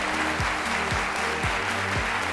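Studio audience applause on a French-language midday television show as guests are welcomed, a steady dense wash of clapping with regular low thumps pulsing underneath.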